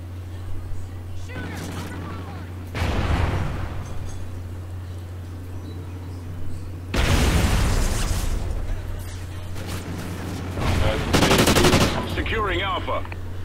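Gunfire in a video game comes in three loud bursts of rapid shots separated by quieter stretches, with a steady low hum running underneath.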